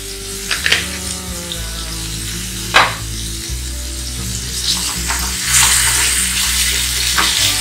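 Spices with garlic and ginger paste sauté in hot oil, a loud continuous sizzle over a low hum, punctuated by a few sharp stirring scrapes and a brighter hissing surge toward the end.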